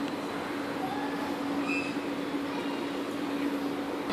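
A Melbourne E-class tram, E6005, departs with a steady low electric hum and a continuous rolling rush, moderately close and with no one speaking.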